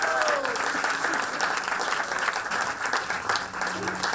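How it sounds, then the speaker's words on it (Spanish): A crowd at a live music show at Casona de La Florida breaks into loud, sustained applause, dense clapping filling the whole stretch with some cheering mixed in. "un aplauso para él."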